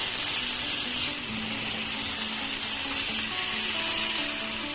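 Young goat mutton curry cooking in a pot, a loud, continuous close sizzle and bubbling hiss that holds steady throughout as it is stirred.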